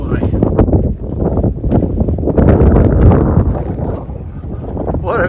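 Strong wind on a high, cold mountain point on the Appalachian Trail in Virginia buffets the microphone in loud, rumbling gusts that rise and fall, nearly continuous throughout.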